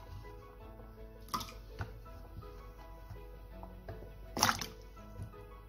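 Pieces of ginger drop into a bowl of water, two distinct splashy plops a few seconds apart, with soft dripping and handling noises between and nobody speaking.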